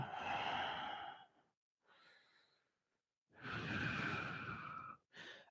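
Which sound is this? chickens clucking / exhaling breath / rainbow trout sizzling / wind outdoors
exhaling breath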